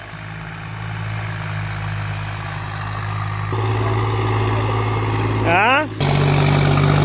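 A Kartar tractor works a field pulling an 11-tine cultivator through wet soil, its steady engine drone rising as it takes the load, with someone talking over it throughout.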